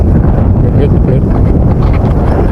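Strong wind on a beach buffets the microphone with a loud, constant low rumble, and a voice is faintly audible under it.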